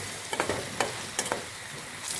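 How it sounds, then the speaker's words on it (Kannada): Onion and tomato frying in hot oil in a pan while being stirred, a soft sizzle broken by several short scraping strokes, close and moderately quiet with no talk. "ಇನ್ನು 1 ರೌಂಡ್ ತಿರುಗಿಸ್ತೀನಿ"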